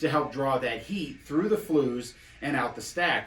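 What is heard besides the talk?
No everyday noises stand out.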